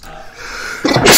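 A single sharp human sneeze, close and loud, following a brief breathy intake near the start.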